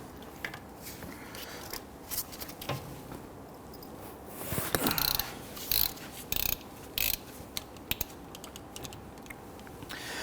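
The upper brake caliper bolt coming off a 2010-2019 Ford Taurus, with fast ratchet clicking in several bursts, the loudest run coming midway, over quieter handling noises and small clanks.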